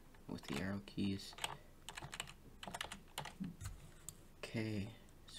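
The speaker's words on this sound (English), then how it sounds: "Scoot it over here with the arrow keys." Arrow keys on a computer keyboard are tapped in short clusters of light clicks, scattered between stretches of someone talking.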